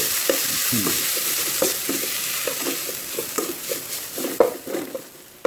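Pounded chili paste frying in plenty of oil for a northern Thai frog curry crackles close and loud, broken by repeated rhythmic scraping stirs of a utensil against the pan.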